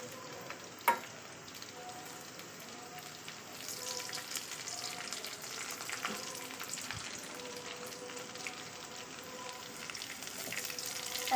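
Spice paste sizzles steadily in hot oil in a pan after black and white cumin seeds and bay leaves are added. The frying crackle is soft and continuous, broken by an early clink, with no talking.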